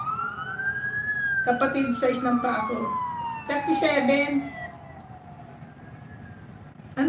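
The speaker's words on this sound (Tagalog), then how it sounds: "Hindi siya pulis, bombero." A fire truck siren wails outside, a long falling tone followed by rapid yelping bursts, fairly loud then fading, while a person talks over it.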